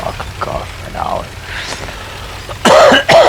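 A man coughs and clears his throat in a few rough bursts, with the loudest, harshest coughs close together near the end, heard alone without talk.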